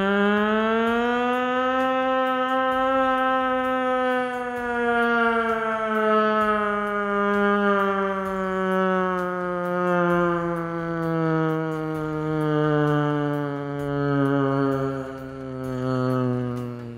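A person's voice imitates an old municipality siren with one long, sustained wail that slowly falls in pitch and swells and fades in gentle waves, loud and alone.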